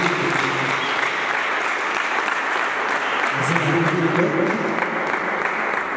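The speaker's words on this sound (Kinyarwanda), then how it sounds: "reka tubakirize amashyi azinga" Sustained applause from an audience at a gospel concert event, steady clapping throughout at close range with crowd noise, and a faint voice heard briefly beneath it.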